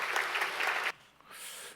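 Audience applause at a university president's inauguration ceremony in Pohang, a dense burst of clapping that stops abruptly partway through, followed by a quieter hiss.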